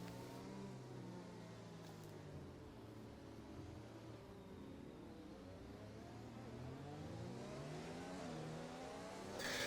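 Race car engines in a racing video game at a safety car restart, revving and accelerating with rising and falling engine tones, moderately loud and continuous without talk.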